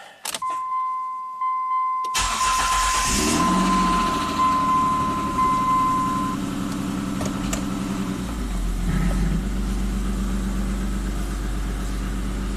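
A Mitsubishi Montero, running without power steering, cranks after a brief electronic chime and fires into a loud, steady, rumbling idle that continues close by, with no one speaking.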